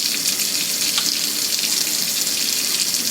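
Hot water runs steadily from a tap into a sink while auto parts are washed, a constant close splashing hiss with no talking.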